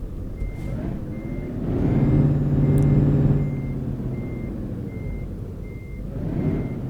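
Repeating truck reversing beeps in Euro Truck Simulator 2 with a Frosty Winter mod, steady evenly spaced tones over a low rumbling diesel engine that swells briefly in the middle.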